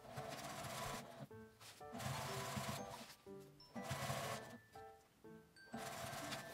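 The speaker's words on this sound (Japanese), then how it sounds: "印から印まで端ミシンをかけます。" A sewing machine stitches along the edge of an insulated lunch bag in bursts of steady mechanical whirring that stop and start with short pauses, close and fairly quiet.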